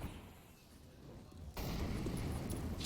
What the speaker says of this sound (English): Well, that's a deadly incendiary.